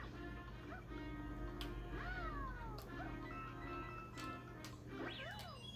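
Cat Luigi meows repeatedly in Super Mario 3D World on the Switch: several short, bending game meows over a steady background game hum.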